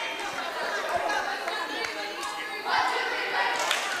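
Crowd at a girls' high school volleyball game in a gym, a steady wash of chatter and cheering that swells louder partway through, with thumps and a voice talking over it.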